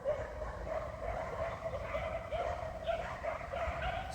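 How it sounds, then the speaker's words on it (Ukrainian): A pack of street dogs in Dnipro barks and yelps continuously at a moderate distance, overlapping calls forming a steady noisy chorus. "Шайка собак розвели тут, ростуть."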